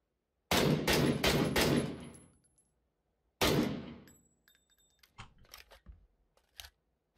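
Gunfire from the battle royale game PUBG with an MK14 or SCAR rifle: a rapid burst of four loud, close shots with ringing tails, a pause, then a single heavy report followed by scattered smaller clicks and impacts.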